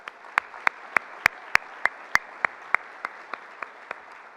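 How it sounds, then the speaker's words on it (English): Clapping at a bank-sponsored annual chamber dinner: crisp, evenly spaced claps in a steady rhythm, about three per second, moderately quiet over a soft hum of room noise. "Let's give them a big round of applause."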